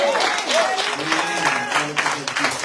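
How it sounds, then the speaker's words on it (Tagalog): A church congregation clapping in praise, dense steady applause throughout, with a voice speaking and exclaiming over it. "Palakpakan natin po ito. Yung palakpak na tagumpay."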